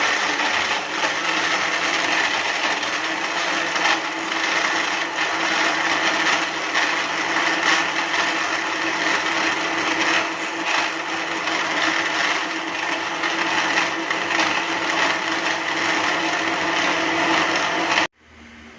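A countertop blender runs nonstop on watermelon juice with ice cubes, giving a loud, dense whirring roar that holds steady and then cuts off abruptly at the end.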